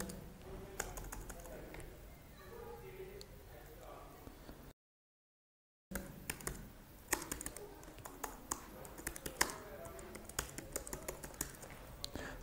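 Someone types on a computer keyboard in MS Word 2013, and the keys click near and crisp in irregular bursts. A brief silent gap splits the clicking, and some talking can be heard alongside it.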